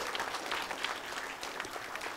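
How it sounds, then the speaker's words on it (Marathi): Applause from an audience at the closing ceremony of DATSWA 2025, a dense steady clatter of many hands clapping together, fairly loud and sustained throughout, with no voices over it. "पुन्हा एकदा नागपूरकरांसाठी जोरदार टाळ्या व्हाव्यात अशी इच्छा करतो"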